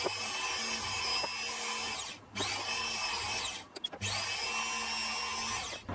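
A power drill boring 2.5 mm holes in metal Webster engine parts, three long whining runs with a steady motor pitch, separated by brief pauses, close and clear.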